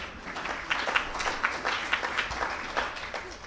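Audience applause during a welcome address at a foundation day event, a soft, fairly distant patter of clapping with a few louder hand claps rising and falling.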